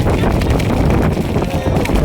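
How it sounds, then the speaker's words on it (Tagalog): Heavy, constant wind buffeting a microphone outdoors at a carabao race in Barangay Santo Cristo, San Antonio, a loud, rumbling roar with a voice buried underneath. "Sobrang lakas ng hangin mga idol."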